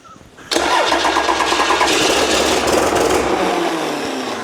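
A 12V Cummins diesel engine cranks and catches after years unused, then runs roughly and loudly close by, its idle unsettled, with no talk over it.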